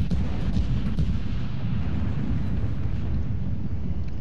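Secondary batteries on the World of Warships battleship Bayern fire in a continuous, heavy low rumble of overlapping booms, dense and loud, with a couple of sharper reports early on.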